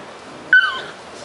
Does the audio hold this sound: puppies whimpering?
yes